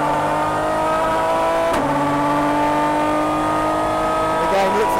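An Aston Martin DBR9 race car's engine drives on track at Paul Ricard, a loud, close, sustained onboard roar that shifts pitch under acceleration with a brief sharp break, while a driver talks over it.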